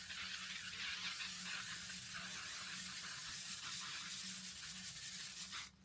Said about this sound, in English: Setting spray, L'Oreal 3-second infallible setting mist.